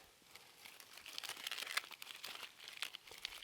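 Crinkly crumpling of material being pressed into a small pocket to hold birch bark at a snowy winter campsite, a series of close, soft irregular crackles.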